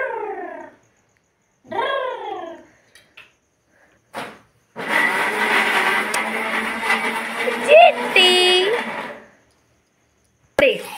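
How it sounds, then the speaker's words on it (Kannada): Mixer grinder blending a banana smoothie, a loud whirring motor run of about four seconds that rises and cuts out, with speech before and after and a brief shrill whine near the end. "ಇದನ್ನು ಫಸ್ಟ್ ಮಿಕ್ಸಿಗೆ ಹಾಕ್ಬಿಡೋಣ."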